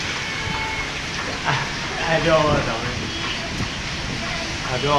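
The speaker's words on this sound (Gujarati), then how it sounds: "કેવો મસ્ત મજાનો વરસાદ પડી ગયો છે અમારા ઘરે" Rain falls steadily on a waterlogged farm field, making an even wash of patter. A person talks over it throughout.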